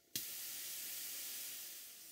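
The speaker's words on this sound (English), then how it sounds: "You can hear the safety valve blowing off in the previous clip." On a vintage Bassett-Lowke steam plant, the boiler safety valve blows off after a sharp onset, then settles into a steady, fairly quiet hiss of escaping steam that holds for about two seconds.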